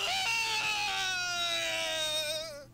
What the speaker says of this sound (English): The death scream's great.